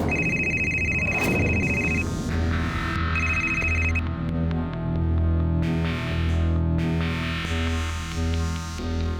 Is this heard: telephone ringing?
yes